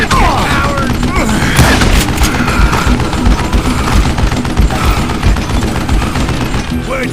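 Rapid gunfire in the Western shooter game Call of Juarez Gunslinger, with loud bursts and shots rattling almost without pause over a busy, dense mix, while a voice shouts now and then.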